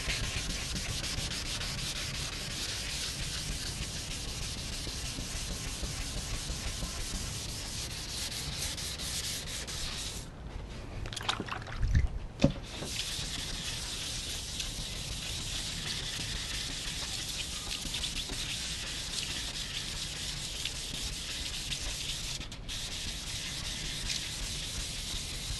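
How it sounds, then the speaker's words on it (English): Steady hand sanding across a surfboard blank during final sanding, a continuous close scratchy rub that runs almost without pause, broken briefly by a few quieter gaps and a soft knock. "sanding out all the previous scratches"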